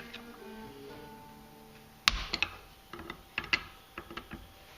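A wrench clicks and clanks against an AC 160 steering cylinder in a series of sharp metallic ticks and knocks, close and fairly quiet, in irregular bursts.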